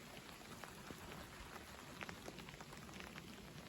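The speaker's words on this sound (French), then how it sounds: "Et bienvenue sous les pluies de l'averse, qui n'est pas très puissante pour l'instant." Light rain from a weak evening shower falls steadily, a dense, even hiss of drops on surfaces with occasional sharper drips, faint and continuous without any voices.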